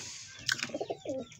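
A pigeon gives a short, soft coo, with a faint rising call and a few low throaty notes in quick succession, quiet and close.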